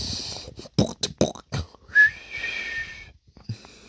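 A man tries to whistle after struggling to manage it: a short, thin, rising whistled note that holds briefly and fades, following a few breathy puffs and failed attempts, close to the microphone in a quiet room.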